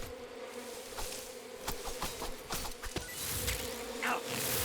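Bees swarming around a beehive in Metal Gear Solid Delta, a steady close buzzing drone of many insects with some scattered clicks and movement sounds over it, growing slightly louder toward the end.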